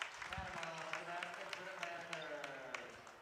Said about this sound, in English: The veteran players still cheering on these youngsters.